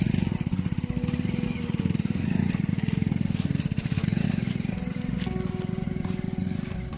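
A motorcycle ridden through desert sand with its engine running hot gives a loud, continuous close-up drone, a fast rumbling pulse with rattling and scraping over it.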